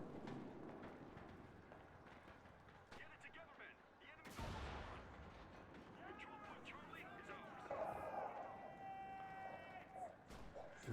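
Scattered gunfire and explosions in the World War II shooter Enlisted, during a Moscow campaign battle, with distant shots and a sharp close blast midway, under someone talking.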